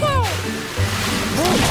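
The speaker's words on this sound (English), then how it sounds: "Let's see who can spray the most water" Cartoon water spraying and sloshing from baby trucks at a car wash, short wet splashes under tonal music and sound effects, with voices nearby.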